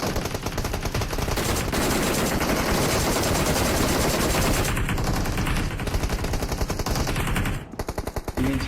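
Rapid automatic gunfire in the PUBG Mobile battle royale game, loud and sustained, with dense bursts that continue almost without a break before a brief lull and more shots.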